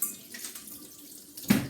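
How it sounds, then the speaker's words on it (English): Tap water runs into a kitchen sink while hands are washed during cornflake chicken wrap prep: a soft, steady hiss of flowing water throughout, with a brief louder splash near the end, no talking. "Now, give your hands a bit of a wash."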